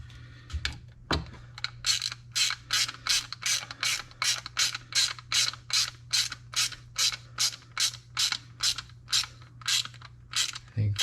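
A quarter-inch ratchet tightens a bolt on Porsche 911 performance pedals, giving about twenty evenly spaced, close clicking strokes over a faint steady hum.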